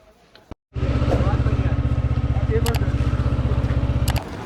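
A loaded motorcycle starts up after a brief silence, its engine settling into a loud, steady, close thumping idle that runs for several seconds before easing off, heading out on a mountain ride toward Om Parvat.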